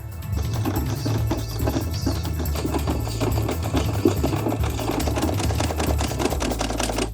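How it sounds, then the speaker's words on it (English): A vintage sewing machine winds bobbin thread with a steady, loud mechanical whir and fast rhythmic ticking that runs unbroken throughout, close by, with no voices. "We ran out of the bobbin thread. Only 20 centimeters to go, so let's wind it."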